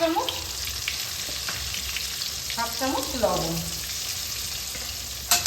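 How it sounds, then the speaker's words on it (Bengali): Potatoes frying with turmeric in oil for a Bengali vegetarian cauliflower and potato curry: a strong, steady, close sizzle with stirring, while someone speaks briefly over it. "আলুটাকে ভালোভাবে ভেজে নেব"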